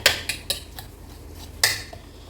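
A utensil scraping and knocking against a cooking pot of softening tomatoes, a few sharp metallic taps spaced irregularly over low background hum.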